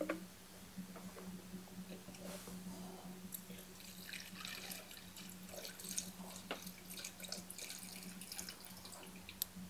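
Old gasoline draining from a Troy Bilt string trimmer into a funnel, a thin steady trickle with scattered drips and taps over a low constant hum, close and quiet, with no talking.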